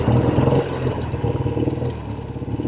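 A 1964 Triumph Thunderbird 650 motorcycle engine runs steadily at idle on a very cold day, a continuous throbbing rumble with a slight rise and fall in level and no voices.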